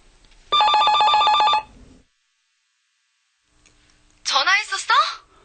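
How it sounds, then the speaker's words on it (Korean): A telephone rings for an incoming call with one steady electronic trill lasting about a second, followed by silence and then a brief voice. "그때 아내에게 전화가 왔다."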